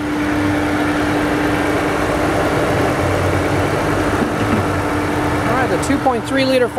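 A 2009 Ford Escape Hybrid's 2.3-liter four-cylinder engine idles with a smooth, steady hum close by, while someone speaks over it toward the end.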